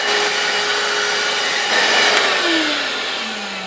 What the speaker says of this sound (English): I'm gonna try this for the mighty little vacuum cleaner.